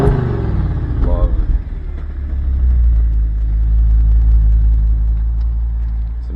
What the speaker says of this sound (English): Now that is a V10 engine for you.